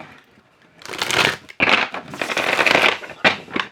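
Close, crisp riffling and shuffling of tarot cards in several quick bursts, a papery rustle with short gaps between passes.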